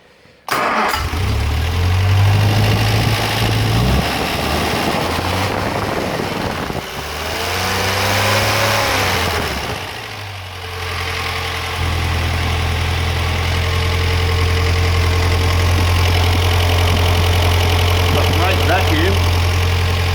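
Scrap car engine mounted on a homemade running stand idles loudly and steadily, a low rumbling drone that dips briefly midway as the revs sag, then settles back into a continuous, slightly uneven idle.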